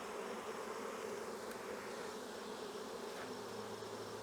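A dense, steady buzz of many honey bees fills the air, continuous and close, with no voices.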